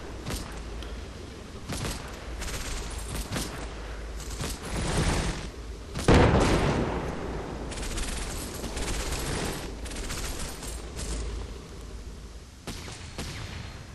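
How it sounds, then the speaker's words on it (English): Tank gunfire aimed at a church in the wartime strategy game Combat Mission: a dense barrage of sharp reports and thuds, with one heavy impact in the middle standing out loudly above continuous rumbling battle noise. "I've ordered my tank to fire briefly at this headquarters team in the church"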